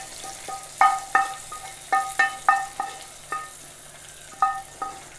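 Onions fry in a small pan as tempering for a roasted-coconut jackfruit seed curry, with a soft, quiet sizzle under about a dozen sharp metallic clinks from a spoon striking the pan while stirring.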